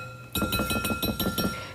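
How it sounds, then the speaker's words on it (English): Two eggs being beaten in a glass bowl, a quick run of about eight rhythmic clinks as the utensil strikes the glass, close and fairly loud with no talking. "So we want to beat the 2 eggs"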